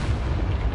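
The Confringo fire-blast spell in Hogwarts Legacy lands as a brief, heavy, rumbling explosive boom, loud and dense throughout, with no talk over it.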